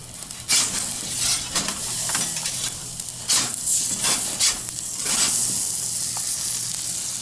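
A T-bone steak sizzles and fries in a hot pan, a loud, close, continuous hiss with brief surges and crackles throughout.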